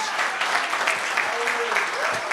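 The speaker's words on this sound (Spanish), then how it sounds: "Un aplauso para ustedes por los 20 años." Audience applause at an environmental forum celebrating twenty years of environmental protection in Colombia, a steady dense clapping wash throughout with some voices mixed in.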